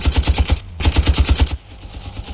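Machine gun fire in the video game Ravenfield, a fast steady rattle of close, loud shots in two bursts separated by a brief gap, ending with quieter rumbling.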